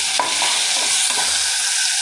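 Tomatoes sizzle in a hot pan while being stirred, a steady bright frying hiss with a few scraping stir strokes, close and loud, with no talking.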